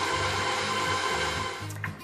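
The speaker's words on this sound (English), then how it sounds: "you're going to stick it on the machine, attach the dough hook. We're going to knead this on medium-low speed," A stand mixer with a dough hook kneads sandwich bread dough on medium-low speed, giving a loud, steady motor drone with a rhythmic churning pulse that eases off slightly toward the end.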